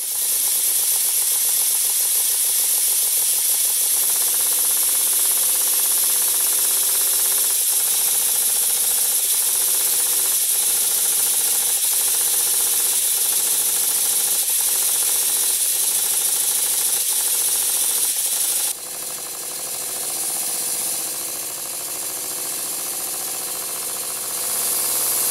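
A model steam engine driven by compressed air runs continuously with a loud, steady hiss and a rhythmic mechanical clicking and ratcheting beat, the hiss shifting in tone partway through.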